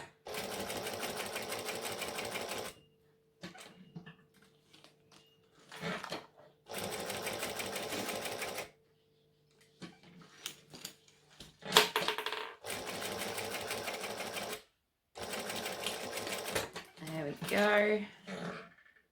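A sewing machine stitches a Giant Tribbiani Traveller bag strap in several separate loud bursts, going forward and back, with quiet gaps and small handling sounds between runs and a brief rustle near the end.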